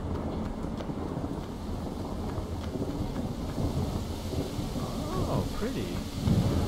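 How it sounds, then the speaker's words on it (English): Thunder rumbles low and continuous beneath steady windy rain in the video game Ico, a broad heavy wash throughout with a brief spoken exclamation over it and a louder swell near the end. "I hear thunder."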